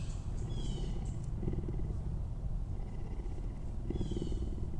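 A big cat at a rescue sanctuary purring in a low, rumbling, continuous pulse, faint and steady with a few soft higher chirps or bird sounds in the background, no talking.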